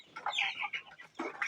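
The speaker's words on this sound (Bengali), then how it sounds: "এগুলো হলো ফার্মি মুরগির বাচ্চা।" Broiler chicks about 25 days old peep and cluck in a small farm house, with quick, fairly close bursts of chirping one after another.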